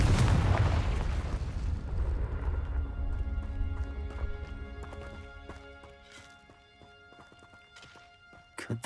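Incendio fire spell cast in Hogwarts Legacy: a loud, deep whooshing burst of flame at the start that rumbles and fades over several seconds, trailing into lingering tonal magical shimmer and small crackles, ending with a brief sharp flare.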